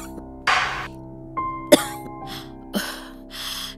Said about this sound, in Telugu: నీకు సడన్ గా ఎందుకు ఇంత దగ్గు వస్తుంది?